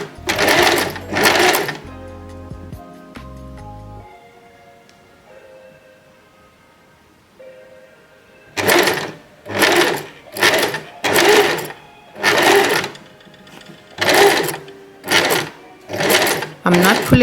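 An Empisal Expression 889 sewing machine stitches a buttonhole in repeated short bursts of rapid mechanical whirring separated by brief pauses, with a quieter stretch of softer tones in between, close up.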